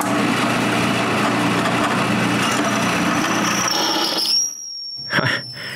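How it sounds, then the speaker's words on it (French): Drill bit boring into a piece of air-cooled metal, giving a steady grinding squeal for about four seconds that stops abruptly, followed by a short scraping burst and a thin high ring. "Je le laisse refroidir à l'air et j'essaye de le percer maintenant."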